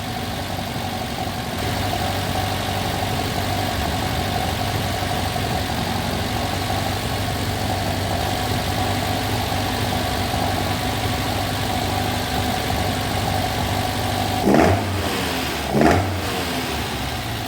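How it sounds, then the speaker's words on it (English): A classic Alfa Romeo GTV engine runs steadily at a fast idle while warming up after a head gasket replacement, a loud, even drone with two short blips of revving near the end. "we're just going to run it up to temperature, burn off all the oil and make sure we got no leaks"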